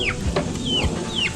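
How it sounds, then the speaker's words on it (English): A rooster clucks several times close by, in short, sharp, squawky calls with brief pauses between them, over a low background rustle. "Crazy rooster."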